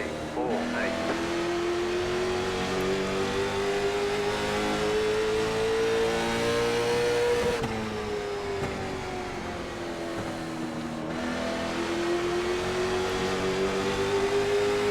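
A race car engine on the Stafford Speedway oval in iRacing drones steadily and loudly for the whole stretch, its pitch climbing and dipping with throttle through the corners, with a brief lift before it winds up again.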